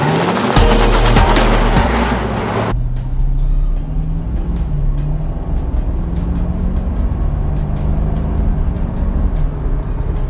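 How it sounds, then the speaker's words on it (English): A 2015 Corvette Stingray drives along, its engine note rising and shifting through gears after a loud, broadband opening burst, then settling into a steady cabin-level drone with continuous road noise. "let's take this for a ride."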